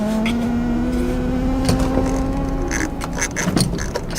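A car's engine idles and hums steadily up close, its low tone dipping partway through, with scattered clicks and rattles on top and no one talking.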